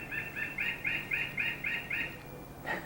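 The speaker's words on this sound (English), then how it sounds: "That's the birds." Birds chirp in a steady run of about eight bright, repeated calls at moderate level, with a brief separate call near the end and no talk.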